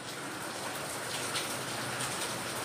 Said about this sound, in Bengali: আর বাইরে তো বৃষ্টির কোনো মানে বিরাম নেই।